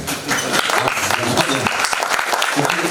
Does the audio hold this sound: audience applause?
yes